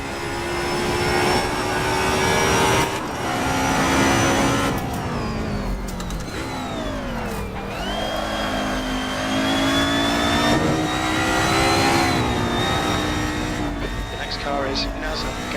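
Race car engines rev and roar in a racing game recreating 90s DTM touring cars such as the Mercedes-Benz 190E Evo II at the Nordschleife, with a BMW sweeping past, its pitch sliding down, under steady commentary talk.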